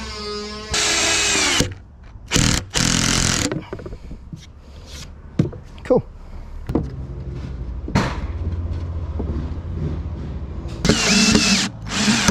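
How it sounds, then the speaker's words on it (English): A power drill countersinks a screw hole on a boat, running in several loud, close bursts of a few seconds each, separated by pauses filled with quieter handling and tool noises. "Probably should countersink that before I go any further, shouldn't I?"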